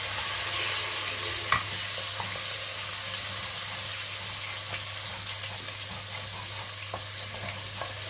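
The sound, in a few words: stirring diced onions frying in oil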